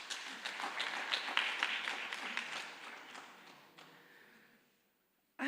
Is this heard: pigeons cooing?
no